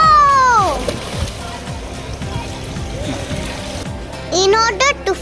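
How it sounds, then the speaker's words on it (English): A child jumps into a swimming pool with a splash, water sloshing and dribbling afterward while children's voices chatter and call out over the top. "Now it's time to jump into the water."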